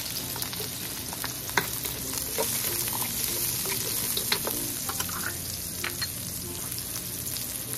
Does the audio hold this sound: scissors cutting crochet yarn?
no